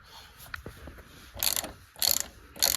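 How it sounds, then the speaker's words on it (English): A 3/8 socket ratchet loosens bolts on a 1997-2006 Jeep TJ during wheel cylinder work, heard as three short, close, rasping clicking bursts separated by brief pauses. "Now what we're going to want is a 10mm open end wrench and a 3/8 socket and ratchet."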